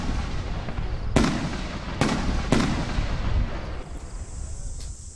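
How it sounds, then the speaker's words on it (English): Spherical firework shells test-fired at a fireworks factory, with three sharp, loud launch thumps in quick succession followed by crackling and a hissing tail. "During a test firing, we see just how precise she is."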